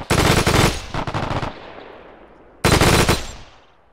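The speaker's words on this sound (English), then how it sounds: "the tank also put a couple of bursts in there" Two loud bursts of rapid tank machine-gun fire in the video game Arma 3: a long burst with a short gap, then a second burst after a pause, each trailing into echoing decay.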